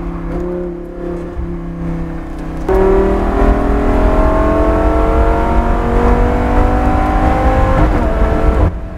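A Lamborghini Gallardo GT race car engine on a track, loud and close, droning steadily and then jumping to a higher, harder-pulling roar that holds until a brief dip near the end.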